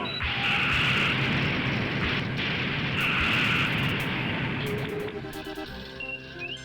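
Enemy ships firing on a starship in Star Trek 25th Anniversary, sustained loud roaring, hissing weapon blasts in repeated waves, giving way to thinner tonal electronic effects near the end.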